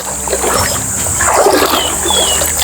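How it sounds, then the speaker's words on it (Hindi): Splashing and sloshing water while someone wades across a swampy jungle river, a steady close-up churn of the water with low background noise throughout. "तो चलिए, उसके लिए मुझे इस नदी को पार करना होगा।"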